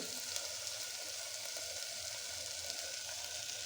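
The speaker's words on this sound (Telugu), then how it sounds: "అల్లం వెల్లుల్లి పేస్ట్ వేసుకొని బాగా కలుపుకోవాలి" Ginger garlic paste frying in a pan for a dhaba-style egg curry, a steady close sizzle with faint stirring underneath, continuous and even throughout with no talk.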